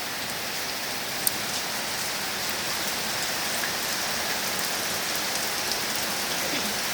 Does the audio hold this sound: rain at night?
yes